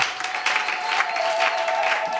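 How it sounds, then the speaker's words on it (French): A church congregation at a Sunday service claps steadily in a dense, sustained round of applause lasting a couple of seconds, with faint crowd murmur underneath. "Acclamez très fort."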